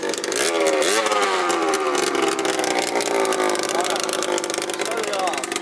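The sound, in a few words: 70cc Yamaha Zuma stunt scooter engine running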